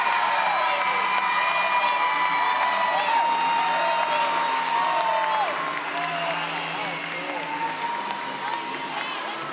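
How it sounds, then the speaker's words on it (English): Crowd of fans cheering and applauding at an Ohio State versus NC State college gymnastics meet, a loud sustained roar with whoops and shouts filling the whole stretch, easing slightly toward the end. "You've got all these fans cheering"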